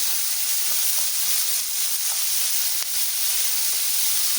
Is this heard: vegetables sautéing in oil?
yes